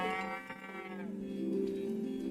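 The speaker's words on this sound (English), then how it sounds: "Cows." Cows moo in a video game trailer, one long, drawn-out low call over a soft music bed, close and clear.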